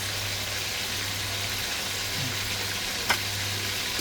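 Garlic and tomatoes for pinakbet fry in a pan with a steady, close sizzle under a low constant hum, and a single sharp click near the end.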